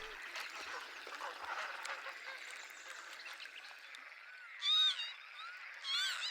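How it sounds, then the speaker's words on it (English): Flock of northern lapwings flying over a lake, giving a couple of loud, clear, rising wheezy calls late on over a soft, busy background of distant bird chatter. "A flock of northern lapwings is flying over the lake."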